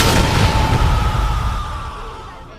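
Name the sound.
grenade explosion in the video game Animal Company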